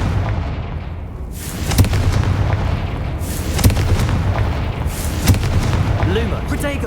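Repeated booming spell blasts from the Confringo explosion spell in the game Hogwarts Legacy, several sharp bursts over a dense, rumbling background of game noise and voices, with no speech clearly on top.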